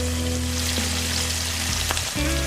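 Onions dropped into hot oil with crushed ginger, garlic and green chilli for baingan bharta, giving a steady close sizzle with a brief stirring clatter near the end.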